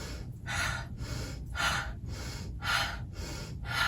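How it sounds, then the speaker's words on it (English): Cyclic hyperventilation breathing through the nose, with an active inhale and active exhale: four strong, rhythmic nasal breaths about one per second, each a loud, close airy rush with short gaps, no talking. "a cyclic hyperventilation type with an active inhale through the nose and an active exhale throughout"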